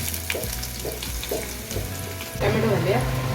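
Onions frying in hot oil in a home kitchen pan, a steady close sizzle with a few stirring scrapes, growing louder toward the end.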